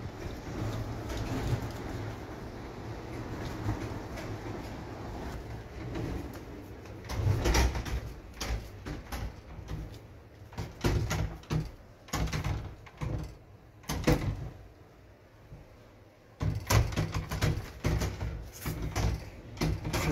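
Storm wind roars during a severe gale in Ostend, Belgium, with bursts of doors rattling and banging on and off over a steady windy rush and a few soft coo-like tones.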